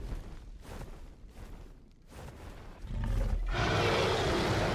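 A skeletonized tyrannosaur in the video game ARK lets out a loud, sustained roar that swells into a broad, rumbling blast in the second half, filling the clip on its own.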